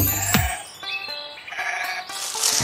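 Sheep bleating at a repaired sheep shack in the farm video game Farm Craft 2, a few short, nasal bleats over game music and chimes, with no talk.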